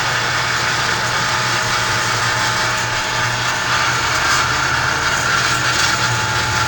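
A vintage Fasco exhaust fan runs close and loud, a continuous whirring drone with a low hum and broadband rush that holds steady the whole time, with no talking over it.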